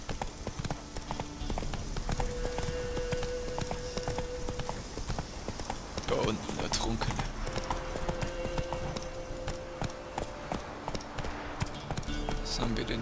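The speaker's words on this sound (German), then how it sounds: "Schwingen wir uns auf Plötze und gehen noch hier hoch. Und dann reiten wir nach Heidefelde." The horse Roach gallops in the video game The Witcher 3: Wild Hunt, a fast continuous clip-clop of hooves running throughout alongside game sounds, with brief tonal in-game effects.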